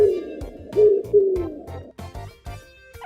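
A homing pigeon coos in low, throaty, repeated rolling calls, close and clear, with no talking.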